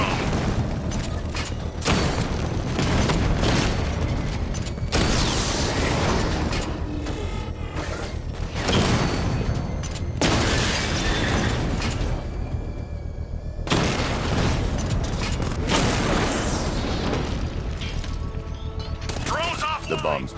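Explosions in Batman: Arkham Knight on PS5, as a bomb payload and drones are blown up: loud, repeated heavy booms and blasts over constant mechanical game noise, with in-game voices talking throughout.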